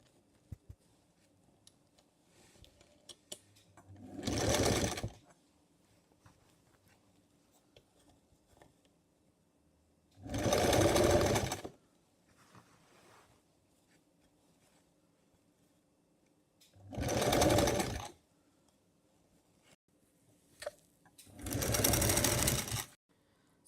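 Sewing machine stitching sleeves onto a designer front-open jacket, running in four separate bursts of a few seconds each with quiet pauses between them.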